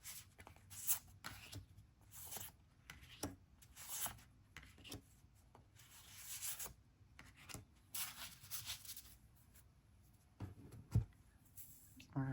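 Oracle cards are shuffled by hand in soft, irregular bursts of rubbing and flicking, quiet and close, with brief pauses between the shuffles.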